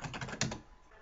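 Rapid typing on a computer keyboard, a quick run of close, crisp key clicks with a slightly louder stroke near the middle, fading toward the end.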